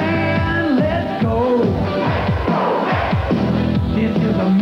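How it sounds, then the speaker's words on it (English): A crowd of voices chants a rhythmic Let's Go Mets cheer for the 1986 New York Mets baseball team. The shouted phrases repeat in a steady, loud pattern. "This is a MET cheer for all your MET here."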